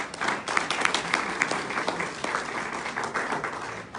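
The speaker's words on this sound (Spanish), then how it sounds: "Den un aplauso fuerte a Dios." A church congregation breaks into applause during a sermon, a broad, sustained wash of many hands clapping that sounds somewhat distant and roomy and keeps a fairly even level throughout.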